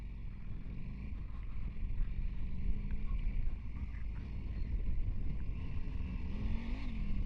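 A KTM 890 Adventure Rally motorcycle riding off-road outside Las Vegas in first gear, a steady engine drone with wind rushing past the microphone, one rising rev near the end.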